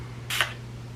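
Urban Decay oil control setting spray gives a single short, sharp pump of mist, a brief hiss in an otherwise quiet room with a low background hum.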